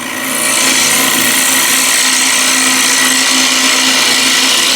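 A ball gouge shear cutting yew wood on a lathe, a loud continuous whooshing hiss of the tool against the spinning blank that holds steady throughout.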